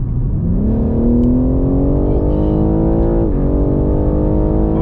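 A BMW M3 with a turbocharged S58 engine in Sport Plus mode accelerates hard, a loud close engine note climbing steadily in pitch through a gear, dipping briefly at a shift, then pulling on.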